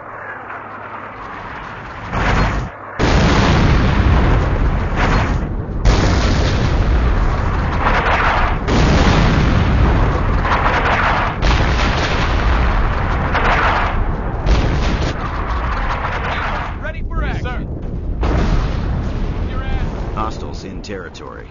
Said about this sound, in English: Battery firing for effect.